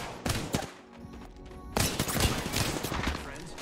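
Gunfire from a G7 rifle in the battle royale game Apex Legends, with several dense bursts of shots and a short lull between them.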